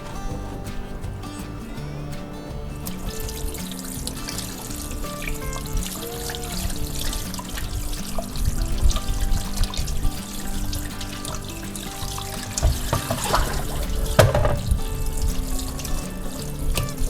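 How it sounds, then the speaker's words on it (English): Water runs steadily from a tap while pork fat is rinsed and rubbed, with splashing and clattering against a sink, close and continuous. "Now I'm gonna wash it with water"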